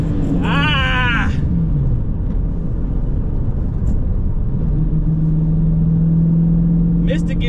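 A Dodge Challenger R/T launches and accelerates, a heavy, loud engine rumble that dominates throughout, with a brief rising rev early and a steady drone later; voices are briefly heard.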